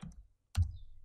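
A couple of computer keyboard key presses as a value is typed into a synth plugin, close and quiet, with a short pause between the soft clicks and no talking.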